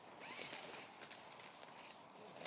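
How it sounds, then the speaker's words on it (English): The zipper on the dividing door of a Vango Idris II awning is pulled along in a continuous rasping zip, soft and close, lasting a couple of seconds. "that just zips along the bottom and the top"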